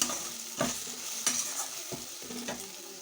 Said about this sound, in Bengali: সব কিছু একেবারে ভালোভাবে একটু নেড়ে চেড়ে মিক্সড করে নেবেন।